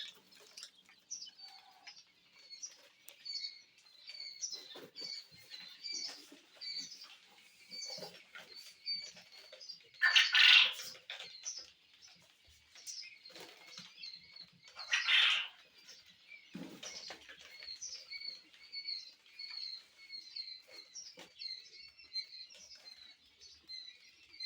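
Young quail chirp and peep repeatedly as they are moved into a new cage after brooding, with light scuffling, pattering and a couple of louder rustling bursts close by.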